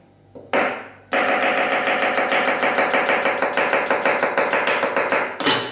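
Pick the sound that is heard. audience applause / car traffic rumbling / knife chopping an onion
knife chopping an onion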